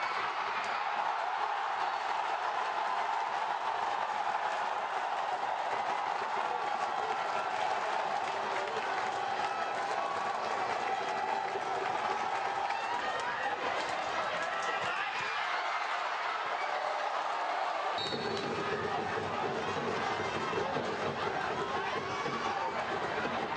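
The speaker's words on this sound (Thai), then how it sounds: "เสียงปรบมือกันนักกีฬาทั้งสองทีมอีกครั้งครับ" A crowd at a football match applauds both teams, a steady wash of clapping and crowd noise that runs throughout with speech mixed in.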